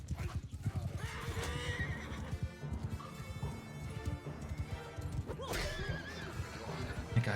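Cavalry horses gallop across a Bannerlord battlefield, their hooves clip-clopping in a fast, dense rhythm. Loud neighs and whinnies rise above the hoofbeats, with a faint voice in the background.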